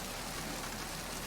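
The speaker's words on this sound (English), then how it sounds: "Just running around in the rain." Rain falling in the video game Metal Gear Solid 2, a steady, even hiss of downpour with no break, moderately faint and with no voices over it.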